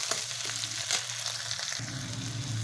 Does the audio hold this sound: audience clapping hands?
no